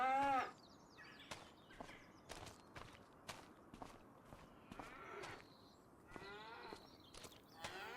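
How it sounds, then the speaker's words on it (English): Highland cattle in the video game Farming Simulator 25 give several moos and bleating calls over steady footsteps, spaced through the scene. "Let's go ahead and put some Highland cattle in"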